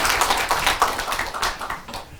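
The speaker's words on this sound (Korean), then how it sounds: "법상 스님을 박수로 맞이하겠습니다." Audience at a Buddhist academic seminar claps to welcome a monk, a short burst of close, moderately loud hand clapping that thins out toward the end.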